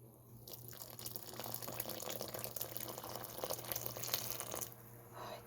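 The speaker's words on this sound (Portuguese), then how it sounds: "Agora eu vou colocar a água quente" Hot water pours into a corn bread batter of cornmeal, sugar, salt and oil, a quiet, steady splashing trickle lasting several seconds with no talk.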